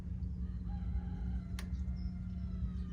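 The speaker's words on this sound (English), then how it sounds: "can you hear that crow?" A neighbor's rooster crows faintly in the distance, a single thin call rising over a steady low hum, heard without speech.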